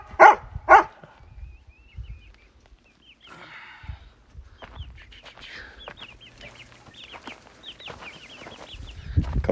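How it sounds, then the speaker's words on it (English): Backyard chickens clucking in a wired-off coop shared with goats, two sharp loud calls at the start and then softer scattered clucks and chirps from the flock, a little distant. "And there's the chickens."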